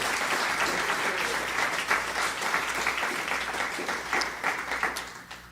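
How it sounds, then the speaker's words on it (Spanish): A church congregation at a Spanish-language service applauds throughout, a thick, continuous roar of many hands clapping that eases slightly toward the end. "Dele un aplauso al Rey, por favor"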